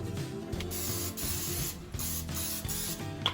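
Cooking spray hissing onto a baking dish in short repeated bursts, close and fairly quiet, with brief pauses between sprays and no talking.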